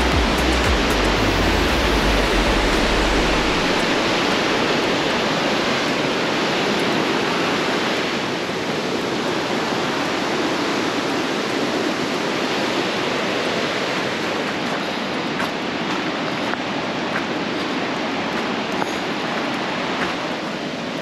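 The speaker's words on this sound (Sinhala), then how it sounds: "ඒ කඳු වල වතුර ගලාගෙන ගියාලි. ඉතින් මේක තමයි ප්‍රසිද්ධ Devil's Punchbowl." Water pouring down the Devil's Punchbowl waterfall at Arthur's Pass, a loud, steady broadband roar that continues unbroken throughout, with a brief low rumble at the start.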